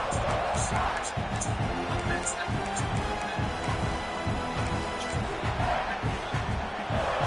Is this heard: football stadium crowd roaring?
yes